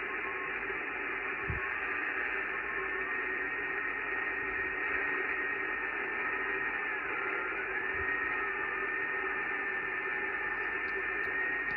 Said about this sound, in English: you can hear the kind of warbling of FT8 signals down here on 17.